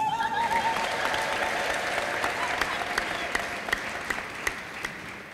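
A church congregation applauds in a full burst of clapping that slowly thins until a few scattered, distinct claps stand out near the end, with some voices faintly mixed in.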